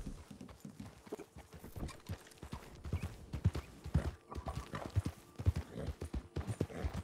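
Steady horse hooves clip-clopping in a Dakota River Bend roleplay video game, a quick rhythmic patter of hoofbeats close by with an occasional faint snort, no talking over it.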